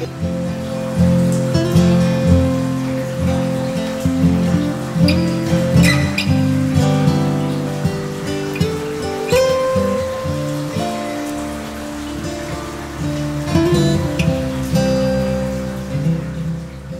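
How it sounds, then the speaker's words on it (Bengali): Heavy rain pouring down at Sajek Valley, a dense continuous wash of drops drumming on nearby surfaces with scattered louder splashes and faint clinks, steady and close throughout with no talking. "আর বৃষ্টির যে সিন শুরু হয়েছে"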